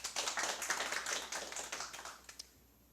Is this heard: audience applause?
yes